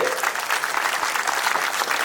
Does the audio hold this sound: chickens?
no